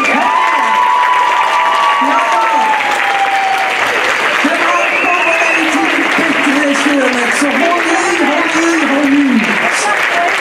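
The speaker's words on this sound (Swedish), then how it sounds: "Ge nu artisterna applåder igen!" Steady, loud audience applause for burlesque performers at a live show, continuous throughout with cheering and voices rising over the clapping.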